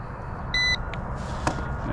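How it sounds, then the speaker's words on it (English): A Ruko F11 Pro 2 camera drone powering up gives a short burst of stacked electronic startup beeps, followed by a faint chirp and a brief tick, all over steady low background hum. "I'm going to turn the drone on by just holding this button down"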